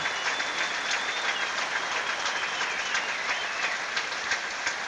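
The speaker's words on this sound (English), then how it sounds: "roundly applauded there by Sampras supporters" A tennis crowd applauds Sampras at a match, a steady wash of clapping from many hands, fairly distant and even throughout.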